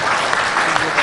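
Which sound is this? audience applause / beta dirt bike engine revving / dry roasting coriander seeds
audience applause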